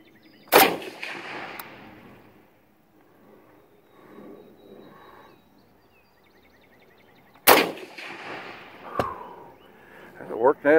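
An SKS rifle fires old East German training ammunition: two sharp, loud shots several seconds apart, with quieter talking and a few clanks between them.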